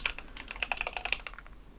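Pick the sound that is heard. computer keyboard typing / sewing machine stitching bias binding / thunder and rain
computer keyboard typing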